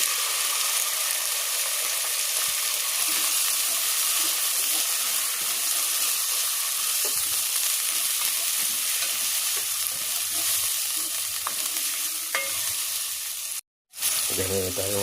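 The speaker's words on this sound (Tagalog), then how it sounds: "Lagay natin itong ating chicken." Chicken pieces frying in a pot for Filipino arroz caldo give a steady, loud sizzle throughout with occasional stirring clatter, then a brief dropout near the end.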